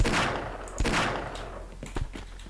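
Rapid gunfire bursts from a shooting video game, loud and dense, with a sharper shot near the start of the second and a few more just before the end.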